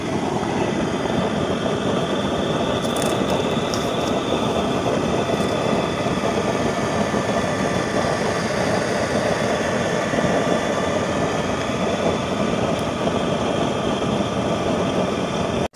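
Stove burner built from a 6-inch fridge compressor chamber with a 40-hole, 1-inch nozzle, heating a pot of rice; a loud, constant roaring hiss runs unbroken throughout with no speech.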